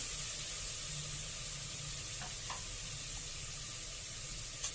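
A ground masala paste with onions is sautéed for sprouted chana masala, giving an even, hissing sizzle throughout, broken by a soft clink near the end.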